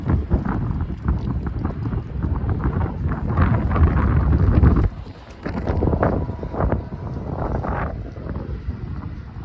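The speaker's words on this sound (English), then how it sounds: "it's quite windy almost all year round, particularly in the winter" Strong wind at Hudson Yards, New York City, buffets the microphone in loud, continuous gusts that briefly ease midway before picking up again.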